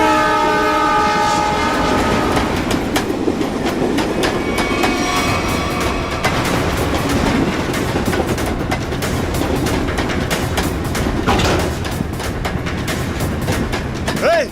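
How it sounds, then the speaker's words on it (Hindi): A train rolls along with a steady, loud rhythmic clatter of wheels on the rails, and its horn sounds at the start. Faint voices sit in the background. "ट्रेन 16 मिनट में स्टेशन पहुंच जाएगी।"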